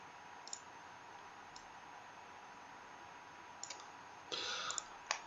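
A computer mouse clicks during sprite editing, giving several short faint clicks spaced apart over a quiet hum, then a brief burst of noise and a final click.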